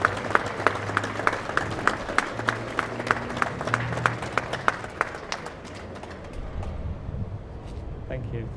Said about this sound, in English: give them a round of applause as they come up here